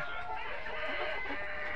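A flock of layer hens clucks and cackles continuously on a poultry farm, a dense, steady chorus of overlapping calls close by.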